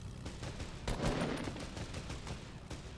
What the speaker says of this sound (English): They're shooting at people.